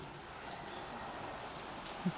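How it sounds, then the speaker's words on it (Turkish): Light rain drizzling steadily outdoors at Trou d'Eau Douce, Mauritius, a soft even hiss of fine drops with a faint patter throughout, no voices. "Ama hala çiseliyor yağmur."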